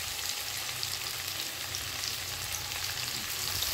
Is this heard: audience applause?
no